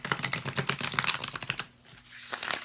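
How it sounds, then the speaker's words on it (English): A Hip Chick Tarot card deck is shuffled by hand, a close, rapid riffling patter of cardstock flicks that runs steadily, then pauses before a few softer flicks resume. "And they shuffle nicely."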